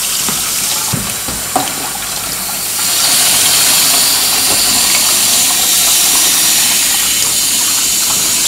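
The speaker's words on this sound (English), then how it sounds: "over here and fill it with water." Tap water pours steadily into a dish used for cleaning a Bradley Mickey Mouse alarm clock movement, with a brief clatter early on and the flow growing fuller and louder after a few seconds.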